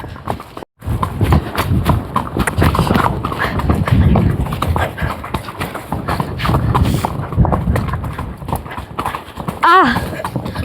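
Pony hooves clip-clop steadily and close during an outdoor ride, a continuous walking rhythm with a brief neigh near the end and some talk over it.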